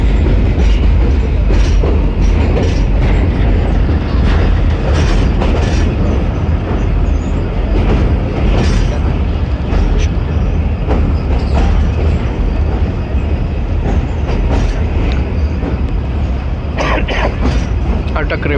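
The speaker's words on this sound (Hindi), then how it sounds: "तो माइटी इंडस रिवर से हमारी ट्रेन पास हो रही है।" Khyber Mail, an old Pakistani passenger train, crossing the Indus River bridge at Attock, a loud constant rumble with rhythmic clickety-clack of wheels, heard from on board, and a voice talking under the noise.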